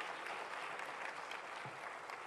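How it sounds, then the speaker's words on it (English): Faint but steady applause from a plenary audience at an African innovators' forum, a continuous wash of clapping with no voices over it. "let's give her another round of applause, please, for her bravery"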